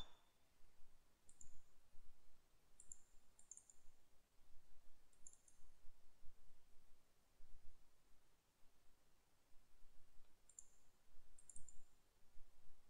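A computer mouse clicks several times on a Windows PC while files are selected and copied, making faint, sharp clicks in small groups over a quiet hiss.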